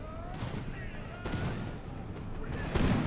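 Massed musket volleys in a historical strategy battle game crackle at a distance in rolling bursts, rising in a few waves over a low rumbling battlefield bed.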